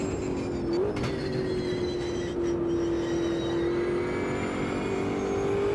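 Race car engine in the Automobilista 2 racing game, a steady sustained drone holding one pitch with a brief upward blip near the start, continuous and fairly loud with no talk.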